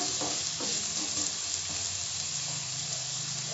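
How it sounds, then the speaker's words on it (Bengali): Chopped onion sautés over medium flame in a pan for Konkani chicken curry, giving a steady close sizzle with a few scraping stirs early on and no talking. "পেঁয়াজ কুচিটা দিয়ে দিলাম। এটা ভালো করে সটে করতে হবে।"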